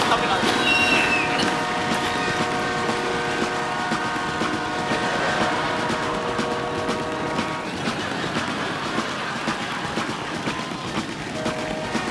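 Performers on a Kapil comedy show recreate a passing train for a film dance scene, using voices or instruments to imitate its rhythmic chugging and tones. The sound is loud and continuous, with a crowd and voices mixed in.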